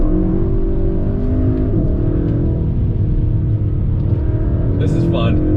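A 2021 Kia K5 GT engine pulling hard under throttle from inside the cabin, a loud steady drone with rising harmonic tones, and a short shift or chirp near the end.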